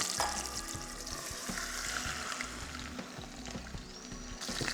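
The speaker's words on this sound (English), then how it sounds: "So once the oil is really hot, I'll add lamb." Lamb shank frying in very hot oil, a steady close sizzle and crackle with scattered pops and a few scraping stirs, continuous throughout.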